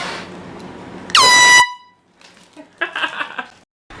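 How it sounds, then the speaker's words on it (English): An air horn taped to a chair blasts once, loud and close, for about half a second. It is followed by quiet and then scattered faint rustling and a brief burst of reaction noise. "I hope you liked the air horn taped to the chair"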